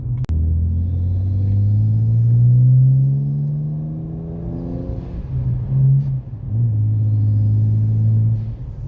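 A loud, throaty exhaust from a BMW E90 335i with an N54 straight-six, resonator and muffler deleted, drones and rises in pitch as the engine revs, then dips and holds a steady deep rumble, with no talking.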